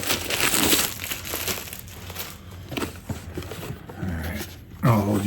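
Packaging for a PC component is unwrapped up close, with bursts of plastic crinkling and crumpling that come and go in short rustles, then a louder scrape near the end.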